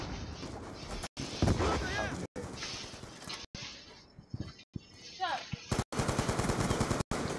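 Gunfire in the video game Call of Duty Black Ops II, with repeated sharp shots and bursts in dense game action, loud and close, while a player talks over it.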